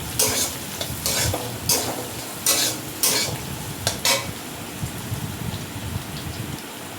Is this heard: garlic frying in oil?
yes